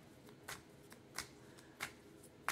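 A deck of Golden Girls tarot cards being shuffled by hand, with a few soft, crisp riffling bursts spaced about a second apart at low volume and no voices.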